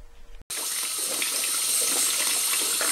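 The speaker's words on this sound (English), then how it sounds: "So I'm adding a little more water." Water pours steadily into a portable washing machine holding soapy water and sheets, a loud continuous splashing rush that starts abruptly after a brief quiet moment.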